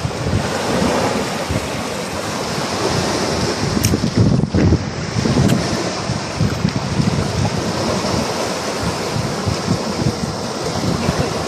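Strong sea waves crash and churn continuously under heavy wind buffeting the microphone, a loud, dense roar of surf with no pauses, recorded close to the shoreline.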